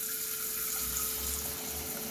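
Water streams steadily into a bowl while cooking a meatless meatball spaghetti, a continuous close splashing pour with no talk.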